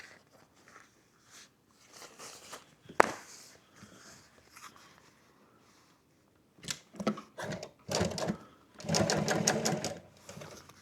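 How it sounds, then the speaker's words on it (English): Sewing machine stitching a skirt onto a garment, heard in short intermittent bursts with the longest run near the end, separated by quiet handling sounds. "Now we'll sew on our skirt."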